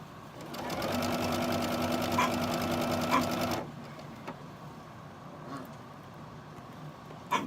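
A sewing machine stitches a Halloween sewing project, running in a fast, steady whir with a rapid mechanical rhythm for several seconds, then stopping, followed by faint handling clicks and rustling nearby.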